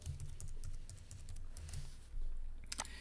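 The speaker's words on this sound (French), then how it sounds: "Je tape mon mot de passe." Typing a password on a computer keyboard, a quick run of soft key taps at close range over a low room hum, ending in a firmer final keystroke.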